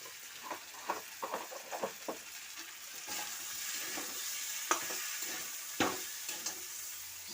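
Potato curry sautéed in a pan after the fried potatoes go in, a quiet, steady sizzle with a run of soft stirring scrapes early on and a few louder knocks later, no voices.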